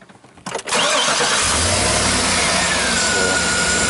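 A 2012 GMC Yukon Denali's engine cranks briefly, then catches and settles into a steady, loud idle close by after a power steering flush.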